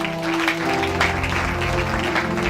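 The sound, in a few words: congregation applauding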